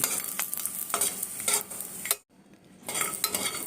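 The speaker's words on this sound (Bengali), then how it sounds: "কড়াইতে সর্ষের তেল গরম করে প্রথমে বড়িগুলো আমি ভেজে নিচ্ছি।" Lentil dumplings (bori) frying in hot mustard oil in a kadai, a steady close sizzle broken by scraping stirs, with a brief quiet pause midway before the crackle resumes.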